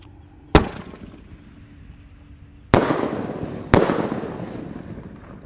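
A Whistling Thunder firework launcher fires three sharp, loud bangs, one early and two close together later, each trailing off into a rumbling echo outdoors, with no talking.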